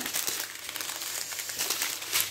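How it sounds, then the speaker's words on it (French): Packaging from a craft haul of diamond painting and scrapbooking supplies crinkles and rustles continuously up close as it is unpacked, with no talk over it. "Quand on déballe, on fait du bruit."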